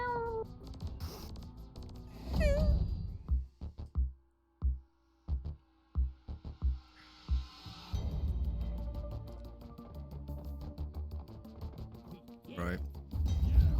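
A kitten meows repeatedly in the video game Deep Rock Galactic: a run of short, close, rising mews in quick succession in the middle, with game sounds and a speaking voice around them.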